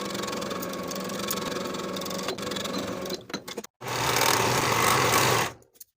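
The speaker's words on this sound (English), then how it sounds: "Sew this yoke seam with a 5/8 inch seam allowance." A home sewing machine stitching a yoke seam on a garment bodice, humming steadily for a few seconds, pausing briefly, then running again in a louder burst before stopping.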